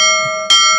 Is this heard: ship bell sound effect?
yes